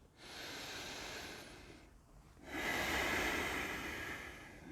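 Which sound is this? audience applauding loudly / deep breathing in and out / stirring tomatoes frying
deep breathing in and out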